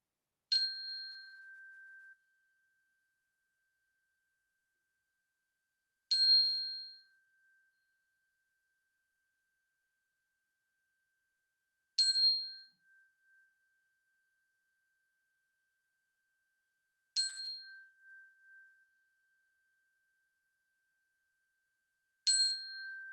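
Five bells rung one at a time as a moment of silence at a town hall meeting, each a clear ding with a ringing tail, spaced about six seconds apart in near silence.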